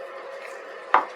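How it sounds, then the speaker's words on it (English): A knife strikes a cutting board once while roughly chopping shallots, a single close thunk over a faint low background hum. "first you want to start getting your shallots cut up"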